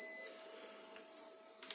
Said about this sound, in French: Ah, fait un bip.